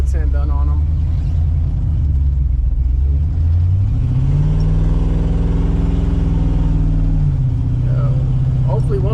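An old-body-style truck, freshly running again, drives with its engine rumbling loudly and continuously, the pitch rising and holding steady mid-drive before settling back down.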